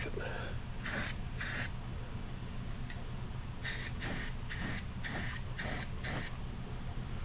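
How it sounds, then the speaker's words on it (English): Aerosol spray paint hisses in a run of short bursts as a spring hanger on an RV is coated, with steady low background rumble throughout. "We'll paint the other one while we're at it."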